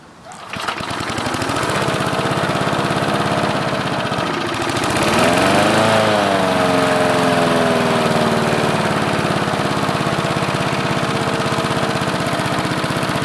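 A Sensation lawn mower engine catches and settles into a steady, loud idle with a chattering mechanical rhythm, its pitch wavering briefly as it warms up before holding even.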